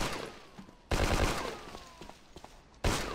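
Gunfire in a WWII shooter game comes as two loud, sharp bursts that open and close the stretch, with quieter crackling shots scattered in between.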